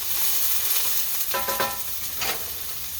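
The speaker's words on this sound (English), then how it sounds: "I have the onions going" Onions fry on a very hot home stove with a steady, close sizzle and a couple of brief stirring scrapes, with no talking.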